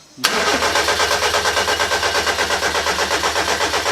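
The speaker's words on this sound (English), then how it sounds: "Will you crank it again for me?" An Austin Mini engine cranks loud and close after a short quiet start, the starter churning in a steady, even rhythm without catching, with no talk over it.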